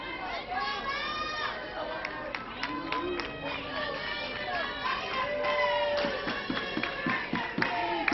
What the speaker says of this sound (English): You heard the crowd. They're not booing. They're saying Lou.